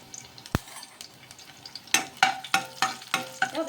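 Mustard seeds, cumin and crushed garlic fry in hot oil, giving a soft sizzle broken by one sharp early click and then a run of rhythmic, close stirring scrapes.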